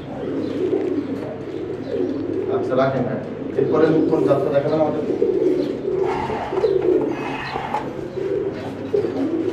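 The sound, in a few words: fancy pigeons cooing in a loft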